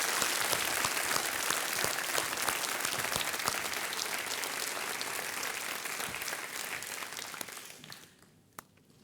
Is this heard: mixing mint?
no